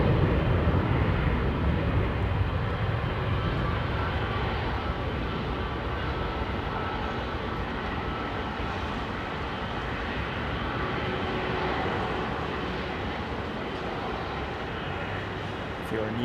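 An Airbus A321neo at London Heathrow, its engines a continuous broad roar with rumble that stays steady and moderately loud, while someone talks over it.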